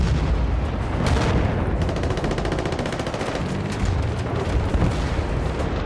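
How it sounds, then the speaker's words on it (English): Battlefield Bad Company 2 combat erupts in sustained gunfire: rapid machine-gun bursts and heavy booms overlap in a loud, continuous barrage with no pause. "I'm taking fire here"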